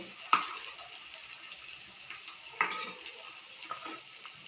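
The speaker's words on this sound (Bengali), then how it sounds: "দিয়ে তেলে একটু নাড়াচাড়া করে নেব" Ground cumin and coriander powder are stirred into hot oil with a cooked-down chili-and-cumin masala for potato dum. A quiet sizzle runs under a few sharp spoon scrapes and clinks against the pan.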